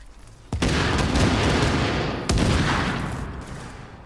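Military RPK machine gun in Tom Clancy's The Division firing two long sustained bursts, loud and dense, the second starting after a short break and both tailing off gradually.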